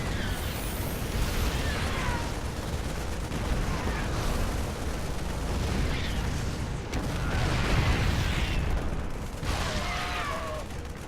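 A video game battle with an enemy tank firing on Marines, heard as a steady wash of distant explosions and gunfire, with heavy booms swelling now and then over continuous combat noise.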